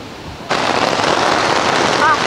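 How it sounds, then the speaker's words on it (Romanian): A sudden burst of dense, hissing noise starts abruptly and continues as a storm begins, like heavy rain and gusting wind arriving all at once, loud and close, in the Alps between Venzone and Villach. "Furtuna a început."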